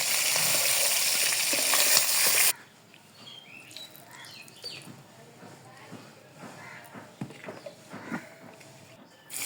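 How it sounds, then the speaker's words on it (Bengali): Onions frying in a pan as the first step of cooking a spicy chicken curry, a loud steady sizzle at first that drops suddenly to faint crackling with scattered clatter and voices talking. "পেঁয়াজ দিয়ে দিলাম মাংস রান্না করার জন্য।"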